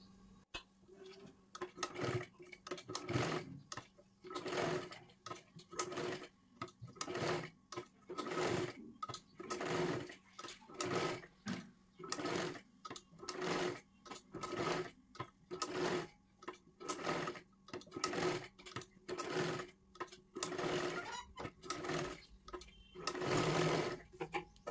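Sewing machine stitching a triangle seam on a three-piece princess blouse, running in repeated short bursts with brief pauses between, close and steady, with no talking.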